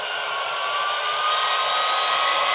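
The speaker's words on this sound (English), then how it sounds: "So dynamic brakes are charging up." Dynamic brake whine from a model PRR E7 diesel locomotive running a TCS WOW sound decoder: a steady, close electronic roar with high tonal whine lines that holds level and builds slightly throughout, with no talking.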